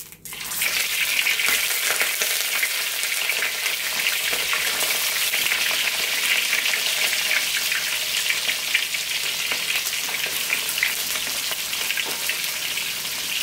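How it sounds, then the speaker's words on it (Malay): Boiled fish fries in hot oil with a loud, continuous sizzle and crackle that stays steady throughout, with no voices. "Selepas itu kita akan goreng ikan rebus."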